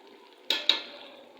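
A spoon clinks twice against a pan as cornflour slurry is mixed into Manchurian gravy, with a faint sizzle continuing underneath and no talking.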